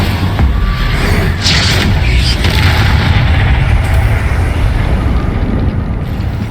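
A spell-cast explosion in the video game Hogwarts Legacy: a loud, sustained booming blast with rumbling low end that holds steady for several seconds, with no talking over it.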